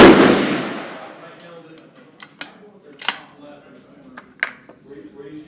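A rifle fires at a box target during a scope test: a single loud, close blast opens and rings away over about a second. Scattered light clicks and taps follow.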